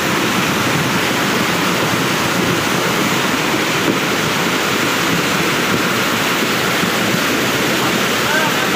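Floodwater rushes loudly and without pause during a landslide after heavy rain in Majua, South Sikkim, a dense roaring torrent filling the whole scene close by.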